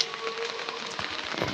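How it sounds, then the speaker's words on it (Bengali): Heavy rain pours down outdoors on a road near a steamer ghat, a dense, steady hiss that stays loud and close throughout with no voices. "খুব বৃষ্টি হচ্ছে তো"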